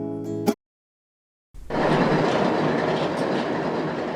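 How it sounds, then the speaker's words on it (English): A train rumbles past close by in the town of Creston, steady and loud with rhythmic clattering of wheels, after a brief sound and a second of silence. "The sounds of the train in town cut through the quietness in Creston most days"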